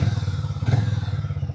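A Harley Davidson X440 T motorcycle idles close by, its engine beating in a steady, throbbing low pulse through the exhaust, with a brief mechanical rise partway through and no talking.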